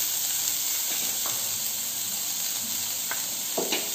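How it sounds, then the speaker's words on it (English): Onions frying in a pan for veg pasta give a steady soft sizzle throughout, with a few brief clinks and stirring scrapes rising over the hiss. "So as the onions are getting cooked"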